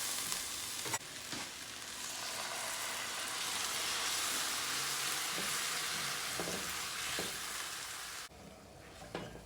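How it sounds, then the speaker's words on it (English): Ramen noodles fry with sauce in a hot pan, a loud, continuous hissing sizzle with a few sharp clinks of stirring, cutting off abruptly near the end. "we'll cook them with the sauce until all the sauce has evaporated and been sucked into the noodles"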